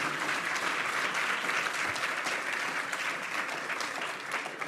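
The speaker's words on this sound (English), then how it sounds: "Could you please join me in a round of applause for President?" An audience gives a full round of applause at the close of a civic talk event. The clapping is steady and even throughout, with no speech over it.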